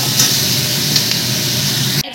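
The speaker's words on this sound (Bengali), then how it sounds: "এগুলো একটু ভাজা ভাজা হোক।" A paste of ginger, onion, garlic and chilli sizzling in a pan, a dense close hiss that runs steadily and then cuts off sharply near the end.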